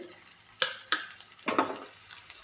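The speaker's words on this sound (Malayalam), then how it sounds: "ഇനി ഇതിലേക്ക് ഒരു 4 വറ്റൽ മുളകും കൂടി ഞാൻ ഇട്ട് കൊടുക്കുന്നുണ്ട്." Dried red chillies and curry leaves dropped into hot oil for a Kerala-style okra and tomato curry, a handful of sharp crackling bursts with stirring sounds between them, close and fairly quiet.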